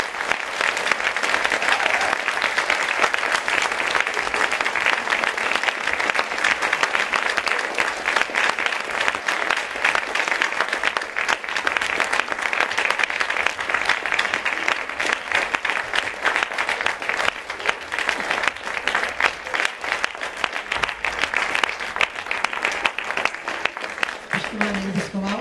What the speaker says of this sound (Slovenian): Za vse še en velik aplavz